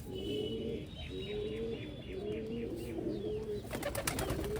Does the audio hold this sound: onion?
no